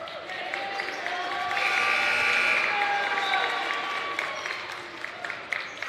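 A crowd at a high school boys basketball game applauds with a swell of clapping that peaks then fades, amid a low murmur of voices and arena noise.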